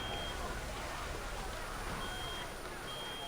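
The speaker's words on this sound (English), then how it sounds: "What's that sound? Some kind of alarm?" Inside the video game Reverse: 1999, an alarm sounds as a thin, high, intermittent beeping tone over a dense, steady wash of rumbling machine noise that stays loud throughout.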